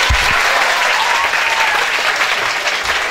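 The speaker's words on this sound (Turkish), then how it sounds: "Muhammed'e bir alkış daha" Loud, dense applause from a seminar audience in Haymana, a continuous roar of many hands clapping close by, steady from start to finish.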